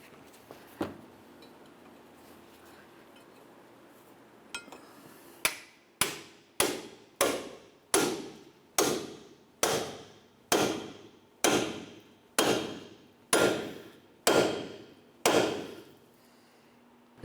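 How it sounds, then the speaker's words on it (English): Metal hammer strikes on a pickle fork separating a front lower ball joint on a Chevrolet Cobalt ring out in a steady series of about a dozen sharp, loud blows, spaced roughly half a second to a second apart, after a few scattered knocks. "we're going to continue on with a pickle fork and a hammer to separate this joint"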